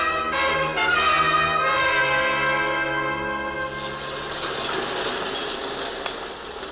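A subway train sound effect from a 1950s radio drama: sustained, screeching metallic tones that give way to a steady rumbling roar, loud throughout.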